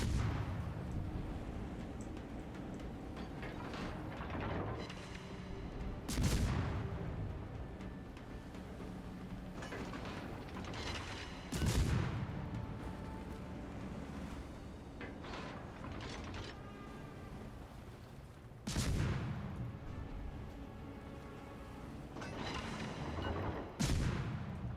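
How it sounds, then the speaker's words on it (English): Distant naval artillery shells firing in World of Warships, heavy booming blasts recurring every few seconds over a continuous rumbling battle ambience and engine drone. "my artillery shell is going to take some time to come down"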